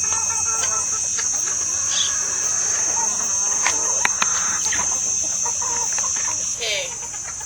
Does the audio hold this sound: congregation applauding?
no